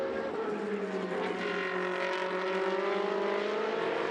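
Race cars in a Trofeo Pirelli race at the Jerez circuit sweep past with a high, whining engine drone that shifts in pitch, heard at moderate distance and continuous throughout.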